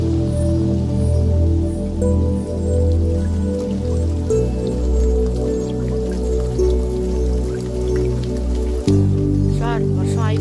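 Steady rain falls in a climax scene from a Telugu film about a village match, with practice halted by the downpour; a continuous patter runs beneath a sustained tonal music score that shifts pitch partway through.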